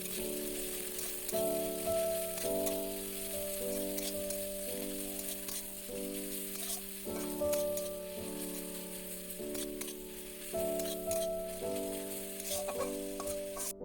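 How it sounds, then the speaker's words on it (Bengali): Chopped onion frying in a pan for homemade egg chow mein, a close, steady sizzle with stirring scrapes, set against a repeating tonal background melody. "এর মধ্যে আমি পেঁয়াজ কুচি দিয়ে দেবো। দিয়ে 2 মিনিট মতো ভেজে নেব।"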